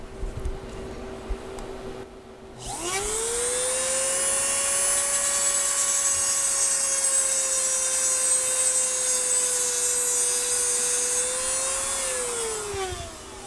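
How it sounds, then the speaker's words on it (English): An Eastwood tungsten grinder spins up and grinds a tungsten electrode, a loud steady high whine held close for about ten seconds before winding down. "This little Eastwood tungsten grinder."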